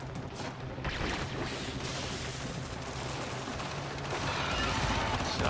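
Rapid automatic gunfire and weapon clatter in the sci-fi shooter Warframe, continuous bursts of shots layered with mechanical impacts and explosions at a moderate level.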